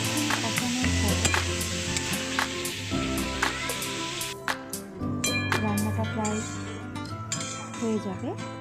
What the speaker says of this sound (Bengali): এবার মশলাটিকে কষিয়ে আমি দিয়ে দেবো সেদ্ধ করা কলার মোচা